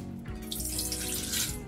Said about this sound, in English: Go ahead and add 350 milliliters water